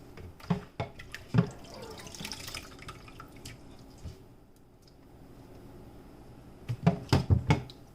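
Grated coconut squeezed and strained for coconut milk, with wet dripping and splashing liquid in short bursts near the start and end, close and moderately loud, separated by a quieter stretch.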